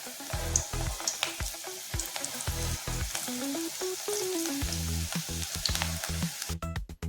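Cabbage pakoda fritters crackle and sizzle in hot oil under a prominent background melody, the bubbling hiss steady throughout with small pops.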